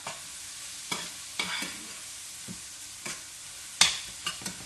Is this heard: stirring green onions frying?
yes